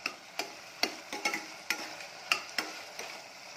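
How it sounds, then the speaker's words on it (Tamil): Sliced onion, tomato and slit green chillies sauté in a pan under a faint sizzle, with sharp spatula scrapes and taps landing about every half second in an uneven stirring rhythm. "நல்லா வதக்கிடலாம்."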